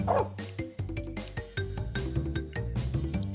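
A cartoonish dog-barking sound effect from the Crash Bandicoot video game: a rapid series of bright barks and yips in a steady rhythm, loud and close, with no talking.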